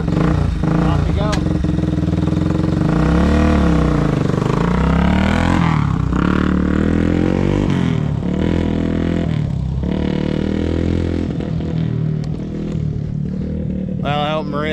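An old four-wheeler ATV engine runs loudly and revs as the machine drives off, its rough, rattling motor rising and falling in pitch, with voices talking over it.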